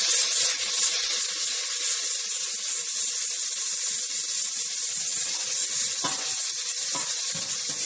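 Onion and tomato sauté in hot oil for pork sinigang, giving a steady, close sizzle with a hissing, frying texture. A few soft clinks and stirring sounds come near the end.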